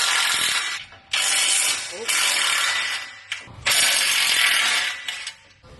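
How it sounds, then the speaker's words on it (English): Ratcheting wrench work on exhaust bolts of a 2020-2022 Ford 6.7 Power Stroke diesel truck, using a 15 mm tool: several bursts of close, loud clicking, separated by short pauses. "Get you a 15 mil, take out these 3 bolts right here."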